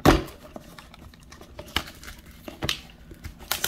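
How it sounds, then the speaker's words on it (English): Pokémon Shining Fates booster packs from an Elite Training Box being handled and opened, with sharp foil crinkles and tearing bursts at irregular moments. "10 packs Shining Fates for us to open."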